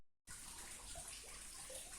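Canal water flowing through farmland, a steady hissing rush that begins abruptly after a brief silence and continues evenly at close range, with no voices.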